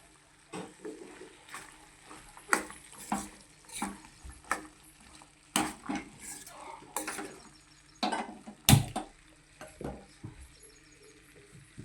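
A spoon stirs masala into green peas curry in a pan, making repeated scraping and clanking strokes in an irregular rhythm, close and fairly loud over a soft sizzle, with no talking.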